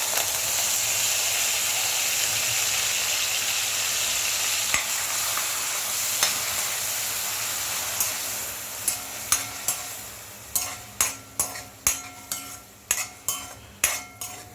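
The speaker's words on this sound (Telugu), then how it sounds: "ఈ పేస్ట్ కొద్దిగా బ్రౌన్ కలర్లో వచ్చే వరకు వేయించుకోవాలి." Onion paste with a pinch of turmeric fries in hot oil for egg pulusu, a steady close sizzle with repeated sharp scrapes and taps of a stirring spoon against the pan growing through the second half.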